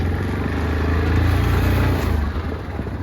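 A 2023 Yamaha Kodiak 450 ATV engine runs steadily in low range while driving, a loud, continuous low mechanical drone with a slight swell in the middle and faint rhythmic pulsing throughout.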